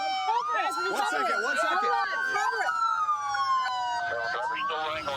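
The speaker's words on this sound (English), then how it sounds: "Kill my siren." A police car siren wails close by in a long rising and falling sweep, a steady loud tone that then dips, while officers shout over it and radio chatter and engine noise mix in.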